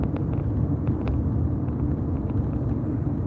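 A car driving along, with a steady low engine and road rumble and faint ticks of cabin noise, close and unbroken, with no talking.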